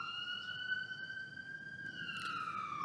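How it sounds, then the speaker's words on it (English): An emergency siren passes outside, a steady, fairly faint wailing tone that slowly shifts pitch as the vehicle goes by, heard alone with no talk. "siren passes."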